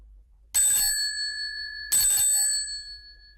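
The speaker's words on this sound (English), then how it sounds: "Then suddenly she ran across the road and rang Holmes's doorbell." A doorbell rings twice as a sound effect in a narrated Sherlock Holmes story, each bright bell-like chime ringing out for about a second with a clean tonal ring, separated by a short pause and heard alone without speech.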